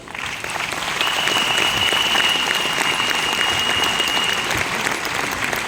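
Sustained audience applause at a youth empowerment event in Bhubaneswar, a dense wash of clapping that swells in after a quiet start and holds steady and loud throughout.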